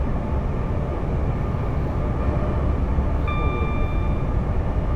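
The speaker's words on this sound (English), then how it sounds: "There goes the Pendolino." A Pendolino train passes on the West Coast Main Line in a train simulator, a steady loud rolling roar that fills the whole clip, with a brief tonal note near the end.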